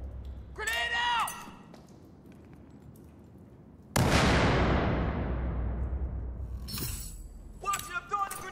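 A frag grenade explodes in the video game Battlefield 4 as a sudden loud boom that rolls off into a long fading rumble, with soldier voices shouting before and after.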